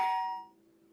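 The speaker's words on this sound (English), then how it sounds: "Someone is at the door. Did we install a doorbell?" A single doorbell chime rings out clearly and decays over about half a second, alone without talk, indoors in a home.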